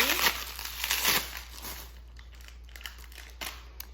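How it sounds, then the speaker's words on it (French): A gift is unwrapped, its paper crinkling and tearing in quick bursts close by, busiest at the start and then thinning to scattered soft rustles. "Je vais le déballer."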